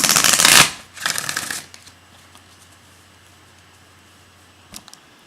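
Gateway Oracle cards are shuffled in two quick, loud riffling bursts, followed by near silence with a faint tap or two toward the end.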